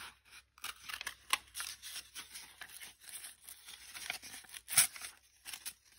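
Scissors cut through two folded sheets of paper at once for a handmade journal: a series of close, crisp snips and slicing crunches with short gaps between them and light paper rustle, with no talking.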